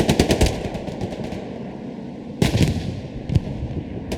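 A rapid burst of machine gun fire in the Hell Let Loose World War II shooter opens, followed by a ringing tail and later isolated heavy shots, loud and close within a noisy battlefield.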